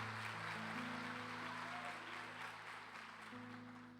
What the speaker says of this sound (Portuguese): os kids merecem um aplauso só para eles agora também